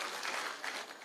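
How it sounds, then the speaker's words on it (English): Audience applause at a public security meeting in Kisumu, a steady wash of many hands clapping for just over a second, moderately loud with no clear voices. "Let's give him another round of applause,"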